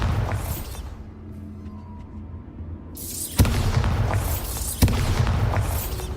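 Bombarda spell explosions in Hogwarts Legacy, two sharp booms each followed by a loud crackling burst of debris, amid game ambience.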